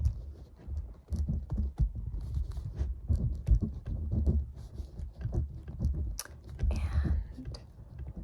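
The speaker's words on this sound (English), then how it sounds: "I'm going to write down the website that you can go to." Close, soft scratching and tapping of a pen writing out a website address on paper in a quiet room, irregular short strokes with faint breathy whispering in the background.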